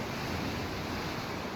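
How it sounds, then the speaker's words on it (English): Ocean surf rolls on as a steady, broad wash of noise after rain, with no distinct breaks, some wind mixed in, and no voices. "and you can hear the ocean"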